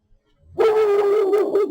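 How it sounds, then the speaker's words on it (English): A dog outdoors gives one sustained, loud, tonal bark-howl lasting about a second, starting abruptly after near silence. "Excuse my dog, my neighbor has his dog outside."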